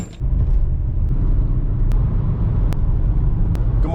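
Car cruising on a road, a steady low rumble of engine and tire noise from inside the cabin, with a few faint sharp clicks.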